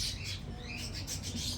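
Birdsong fills a bird exhibit corner of a nostalgia museum in Khobar, Saudi Arabia: steady high chirps and tweets, probably a played recording, running continuously at moderate level with a low hum beneath.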